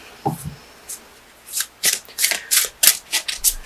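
Oracle cards from the Crystal Wisdom Healing Oracle deck being shuffled close up, a brief tap, then a rapid run of crisp riffling bursts in steady rhythm, loud and alone.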